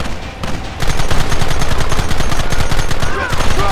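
Dense gunfire in the Western video game Red Dead Redemption, a continuous loud rattle of rapid shots with crackling echoes, lasting the whole stretch.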